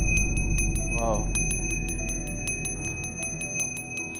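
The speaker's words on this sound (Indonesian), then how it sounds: "Saya akan membunyikan lonceng yang kedua." A bell rings with rapid, evenly spaced strikes throughout, bright and close, while a person briefly exclaims near the start.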